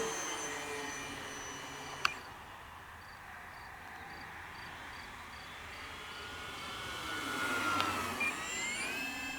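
A Durafly T-28 Trojan RC plane's electric motor whines at full throttle, a steady high-pitched buzz from a distance that swells as the plane passes closer near the end.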